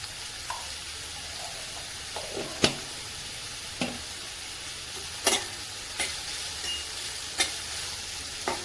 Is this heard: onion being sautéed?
yes